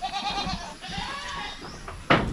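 Goats bleating at a farm, several wavering calls carrying across the clip with one loud, close bleat near the end.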